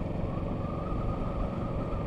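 A 2020 Kawasaki Ninja 650 engine runs smoothly at low speed in fourth gear under 30 mph, a steady, even hum that stays fairly quiet with no other sounds on top.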